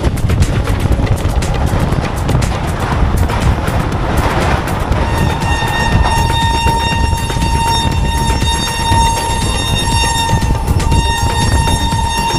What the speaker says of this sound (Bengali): আর এখন আমরা পাশের যে ট্রেনটাকে ওভারটেক করে যাচ্ছি